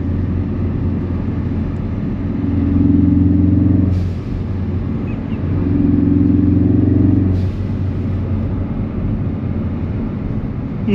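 A car being driven hard with go-kart-like handling, its engine droning loud and steady, then swelling in two long revving surges separated by a brief dip, with no talking.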